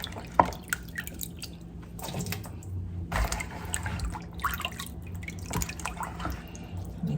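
Water dripping and splashing while vegetables are washed, with irregular close drips, squishy handling and soft splashes over a low background hum.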